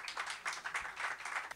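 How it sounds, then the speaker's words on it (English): A conference audience at a developer meetup claps to welcome a speaker, a brief burst of fairly close, steady applause with no talking. "please go give a nice welcome to Victor. Give a applause"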